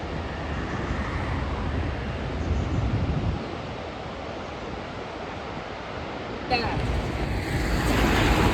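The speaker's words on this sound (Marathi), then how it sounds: "मस्त आवाज येतो ना पाण्याचा" Constant rushing of a mountain stream on the Kedarnath route, close and full, with a breezy rumble and a sharp shift in tone near the end.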